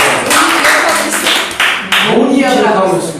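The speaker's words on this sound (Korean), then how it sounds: "박수 한번 주십시오." Audience applause at a speaking lecture, a burst of clapping from a crowd lasting a few seconds, with a speaker's voice over it.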